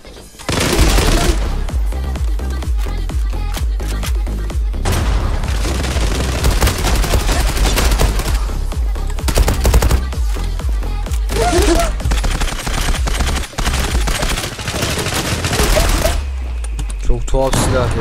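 In the game Zula, a Turkish-made Fateh gun is fired on the New Tehran map. Loud, rapid bursts of gunfire repeat with brief pauses between them, and a voice talks over the shooting at times.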